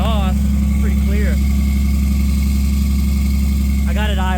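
A welding truck's engine idles high on PTO, exhaust running steady and loud throughout, with a suspected cracked piston ring; someone talks over the constant drone.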